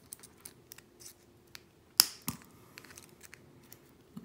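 Coil wire leads snipped while building a vape atomizer, with one sharp, close cut standing out, a second softer snip just after it, and faint small clicks and handling noises around them.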